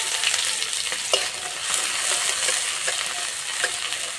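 Chopped onion dropped into hot mustard oil in a kadai, giving a dense continuous hiss close up, with scattered light scrapes and taps of a stirring spoon.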